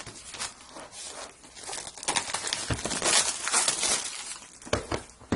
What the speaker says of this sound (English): looks like we have some plastic to take off here, so I'm just going to cut it along the side